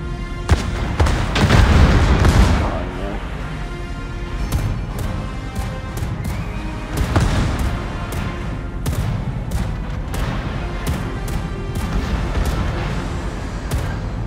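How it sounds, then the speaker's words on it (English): Naval secondary gun batteries firing high-explosive shells in World of Warships, a rapid string of sharp booming reports with a dense heavy rumble at the start, then repeated distinct cracks over continuous battle noise. "Secondary batteries are duking it out."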